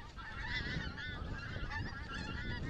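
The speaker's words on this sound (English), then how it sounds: "Geese, that's what they are" Many geese honk together in a continuous noisy chorus, heard from a moderate distance with steady background rumble.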